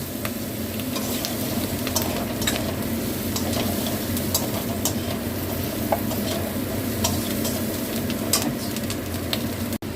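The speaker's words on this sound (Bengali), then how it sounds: "ক্যাপসিকামটা দিয়ে এবার নেড়ে নেবো। এবার হলুদটা দিয়ে আমি একটু নাড়বো।" Capsicum sizzles in a pan with turmeric and coriander powder while being stirred, a steady close frying hiss with scattered scraping clicks of the spoon, no voices.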